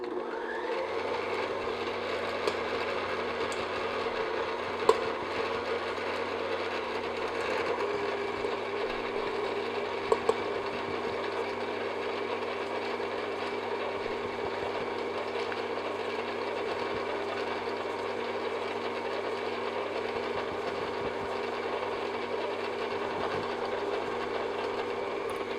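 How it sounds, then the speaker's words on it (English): An electric mixer on medium-high speed beats butter and sugar in a steady, continuous whir that holds close and unbroken, with a couple of faint clicks along the way. "I will continue to beat this butter and sugar together for about maybe 3 to 5 minutes on medium-high speed"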